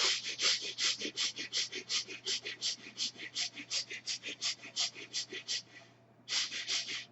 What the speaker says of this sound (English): you start breathing quick and short breath from the chest through both the nostrils